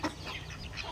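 Hens feeding alongside ducks give soft, faint clucks in one brief, quiet burst close to the ground.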